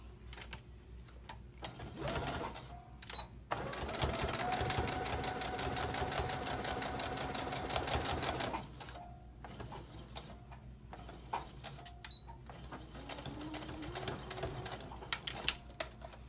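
A sewing machine stitches a headband, starting with short bursts, then a sustained rapid mechanical rattle for several seconds, followed by quieter handling clicks and fabric rustle.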